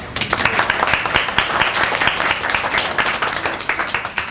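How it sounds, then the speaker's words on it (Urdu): An audience at a Winter 2022 program of the Al Beruni Fatima Group applauds itself with dense, steady clapping that is close and loud, with no voices over it. "سب سے پہلے آپ اپنے لیے تالیاں بجائیں"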